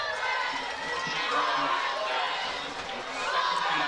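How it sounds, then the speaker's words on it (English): A large crowd at a varsity football game roars and chatters steadily, a dense wall of cheering voices heard from a distance. "the crowd's pretty loud"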